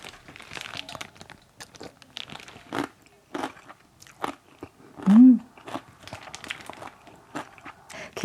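Someone eats a simple homemade vegetarian kimchi up close, making scattered crisp crunching bites and chewing sounds with quiet pauses between them.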